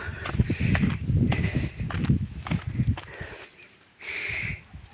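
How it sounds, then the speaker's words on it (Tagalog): A water buffalo (carabao) walks along a trail toward a waterfall, its hooves giving steady, fairly close clopping steps with some scuffing, easing off near the end before a brief burst of brighter noise. "Kalabaw."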